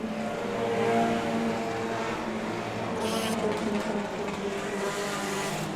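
Mini stock race cars on an ice track at Showtime Speedway's Ice Crusher, engines droning and revving together in a close pack battle, heard under continuous race commentary.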